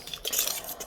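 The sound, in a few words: mixing banana bread batter with a utensil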